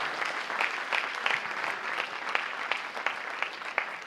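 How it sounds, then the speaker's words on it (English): A school audience applauds student athletes, a moderate, steady spread of many hands clapping at middling distance with a few louder individual claps standing out. "we should definitely give them a round of applause for that"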